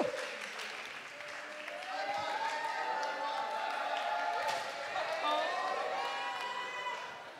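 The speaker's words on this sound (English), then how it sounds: "maybe give him another round of warm applause" At the World's Best Receptionist 2023 awards, a crowd applauds a winner with steady clapping that swells through the middle, mixed with raised voices and cheering from the audience.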